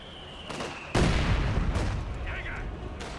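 A Zis gun artillery barrage hits in Company of Heroes 2: a sudden heavy blast with a rumbling tail, then lighter impacts, while a commentator talks over it.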